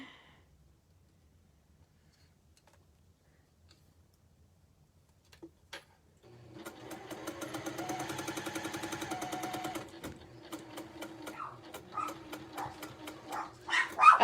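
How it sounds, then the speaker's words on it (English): Dogs at home going wild at a delivery man, a quiet start giving way to a dense run of barks and yips, with a sewing machine whirring steadily through the middle and louder barking near the end. "the delivery man came and my dogs are like going crazy"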